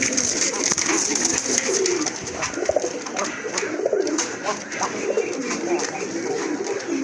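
Pigeons for sale at a Bangladeshi market stall coo repeatedly in soft low burbles, close by, amid background chatter and other bird calls.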